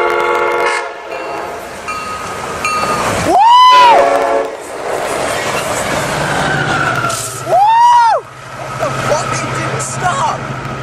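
A Coaster commuter train rumbles past nearby at Carlsbad Poinsettia Station, sounding two long horn blasts a few seconds apart, with people talking excitedly over it.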